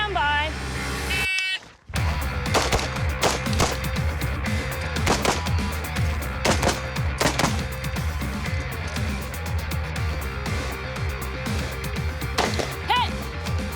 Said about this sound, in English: we'll have to shoot close-range targets, switch magnification on the scope, and then hit 5 long-range targets